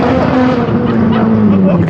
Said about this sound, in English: you can hear the car's broken traction, and that's why you hear that it hit the limiter, basically hit the rev limiter of the engine.